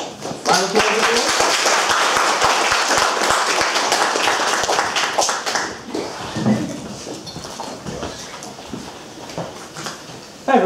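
Applause from the audience at a student union hustings as the last male welfare candidate is introduced: dense clapping fills the first six seconds, then thins to scattered claps before he begins to speak.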